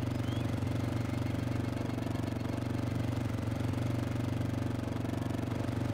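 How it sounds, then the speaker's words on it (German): A motorcycle engine in the video game DayZ runs steadily and loudly for the whole stretch, a constant mid-pitched drone with no pauses or changes in revs. "Ein Motorrad."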